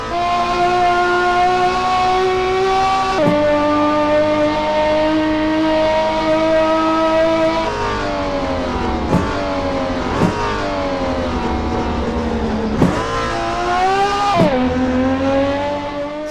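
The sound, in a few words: race car engine in PISTA Motors racing sim video game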